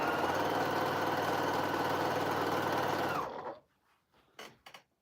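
A sewing machine runs at speed in one close, steady whirring burst for about three seconds, then stops, followed by a few soft clicks.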